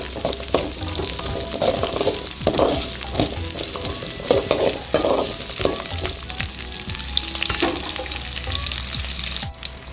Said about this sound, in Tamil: வெங்காயம் இந்த அளவுக்கு வதங்கிருச்சு.